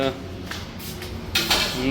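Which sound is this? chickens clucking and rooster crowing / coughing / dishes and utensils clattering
dishes and utensils clattering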